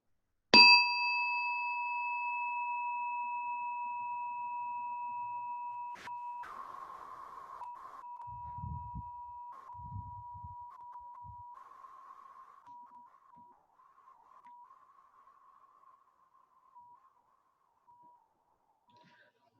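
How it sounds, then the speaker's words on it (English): Struck once, a meditation bell rings out with a clear, sustained tone that fades slowly over many seconds in a quiet room, with a few soft knocks underneath. "I'm going to start by hitting the bell here."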